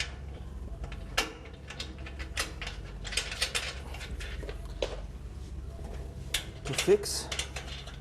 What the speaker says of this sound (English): And then we have 4 nuts to bolt it down.